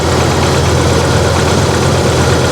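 Idling 2.5-liter engine in a 2013 Ford F truck with a solid misfire, a loud, steady low rumble with an uneven knocking pulse running throughout, no voices over it.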